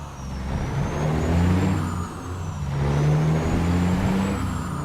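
Loud, steady truck engine in American Truck Simulator droning and swelling gently, a low rumbling hum with a faint high whine rising and falling, no voices.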